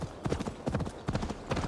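Horse hooves clip-clopping at a steady gallop in Assassin's Creed Valhalla, a continuous run of loud, close hoofbeats with no talking.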